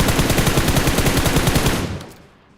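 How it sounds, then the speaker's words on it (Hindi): Rapid automatic gunfire in the battle royale game BGMI, a dense loud burst of rattling shots lasting nearly two seconds before cutting off and fading out, with no voices. "मैंने इस बंदे पे प्री फायर दिया"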